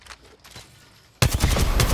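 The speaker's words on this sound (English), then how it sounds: "Getting shot at." Gunfire in Apex Legends breaks out suddenly after a quiet stretch, a loud, dense burst of rapid shots continuing to the end.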